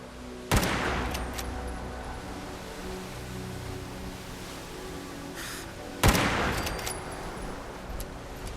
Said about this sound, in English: 3 bullets on a Mirelurk king.